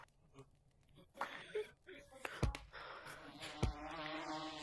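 Insect buzzing from bees in the VR game Gorilla Tag, a faint, wavering drone that rises and falls, mixed with game noise and a couple of sharp sweeping tones.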